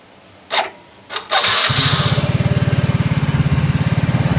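A Yamaha Mio J scooter with a new piston and cylinder block gives two brief cranking attempts, then the engine catches and settles into a steady, rapid putter up close.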